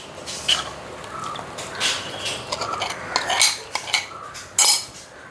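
A spoon stirs a coconut and jaggery halwa mixture in a metal pan, producing repeated scraping and clinking of utensil on metal with irregular louder knocks, fairly close and clear.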